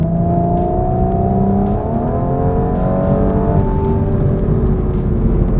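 A 2021 Audi S5 Sportback engine revs loudly and close, its pitch climbing and sliding in aggressive surges, with no talking over it.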